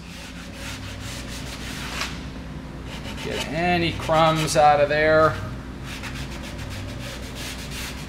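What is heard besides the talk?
sanding wood with a sanding block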